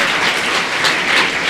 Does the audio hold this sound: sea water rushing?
no